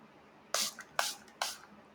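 Three quick hissing bursts of Moody skincare face mist from a pump bottle, evenly spaced and close, over a quiet background.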